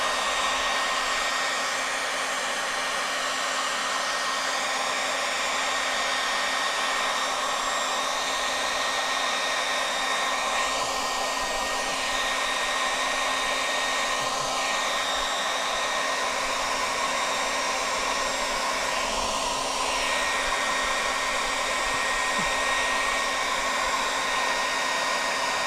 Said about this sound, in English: So we're going to heat.